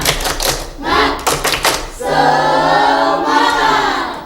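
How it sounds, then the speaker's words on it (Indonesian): An Indonesian school class does a rhythmic spirit clap, a loud patterned burst of sharp group claps followed by the students' sustained chanting voices. "Tepuk semangat."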